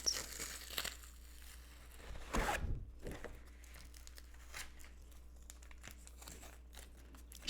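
Backing sheet peeled and crinkled off an engraved stainless steel server, soft close rustling with a brief louder tearing rip partway through, then faint crinkles in a quiet room.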